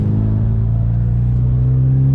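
A tuned Stratified car exhaust rumbles loud and close as the car accelerates, with a steady deep drone and layered engine tones holding for a couple of seconds.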